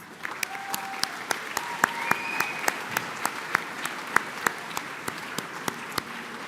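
Applause at a college commencement ceremony as the crowd honors graduates' families, a moderate, even patter of many hands with a few sharper, distinct claps standing out throughout.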